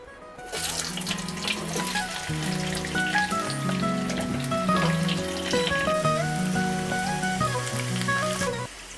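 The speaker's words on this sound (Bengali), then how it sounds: "এবার আলুটা ভেজে আমি তুলে নেব।" Potatoes fry in hot mustard oil, giving a loud, continuous hiss and crackle that starts abruptly as they hit the pan and holds steady throughout, with no talking.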